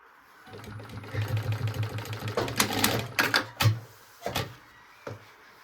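A sewing machine stitches the seam of a drawstring backpack, a rapid mechanical chatter of needle strokes in short runs, broken by clicks and clacks of handling, fairly quiet and close.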